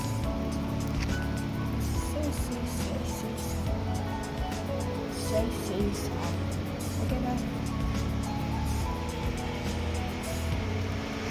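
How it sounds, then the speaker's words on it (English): On a rainy day, a school bus passes by with a broad, continuous road roar and a wet tyre hiss. A person speaks briefly over the passing traffic. "School bus"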